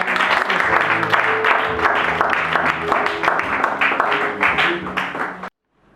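Audience applauding at a diploma and computer presentation ceremony for a graduating class, dense sustained clapping from a crowd that ends abruptly near the close.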